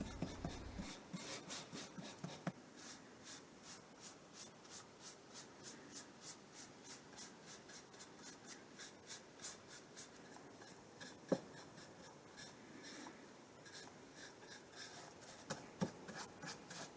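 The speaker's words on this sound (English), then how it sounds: "watching me brush all the little scraggly bits off with a toothbrush" A toothbrush scrubs scraggly bits off a carved wooden leaf in quick rhythmic strokes, a soft, close, steady bristly rasping that goes on throughout without talk.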